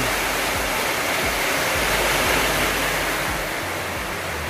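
Heavy rain pouring in a steady, loud, unbroken roar of broadband hiss that holds from start to end, with no talking.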